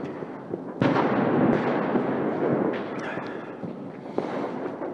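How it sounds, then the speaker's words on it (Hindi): Diwali firecrackers bursting outdoors: a sharp bang followed by a long crackling, rumbling spread of pops, then scattered smaller cracks and another burst, loud and echoing. "और बेटा यहाँ बम फटाके जलाने में लगा हुआ है, हम भी बम बजाते हैं"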